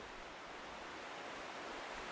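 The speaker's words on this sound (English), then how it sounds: "You can hear the waterfall in the background as well." A steady, faint rush of a waterfall in Dark Souls fills the background, an even hiss with no breaks or changes.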